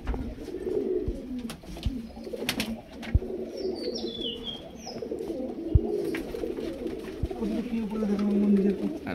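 High flyer pigeons coo repeatedly in soft rolling calls, close and ongoing, with occasional sharp clicks and brief high chirps from small birds in the background.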